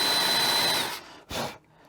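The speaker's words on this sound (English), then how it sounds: "We're going to countersink it large enough for the screw hole." A power drill countersinks a screw hole in a wooden board on a mass-produced drawer repair, a loud whirring grind for about a second, then a brief second burst after a pause.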